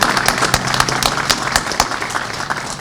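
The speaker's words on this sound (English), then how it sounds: "I think we need to applaud those folks and everybody too" An audience claps at the Jackson Street Plaza ribbon cutting in downtown Dublin, a steady, dense patter of many hands that holds for about three seconds with scattered sharper claps.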